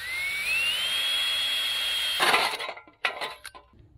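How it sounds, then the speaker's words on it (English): A high-pitched power drill whines steadily, its pitch rising as it spins up, then cuts into a spare panel with a rougher grinding burst before stopping and restarting briefly. "let's drill into a spare piece"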